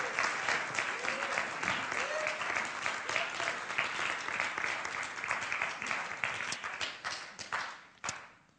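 A live audience cheers and applauds together, a steady roar of dense clapping with whoops and shouts rising above it, holding strong before tapering off near the end with a final few claps.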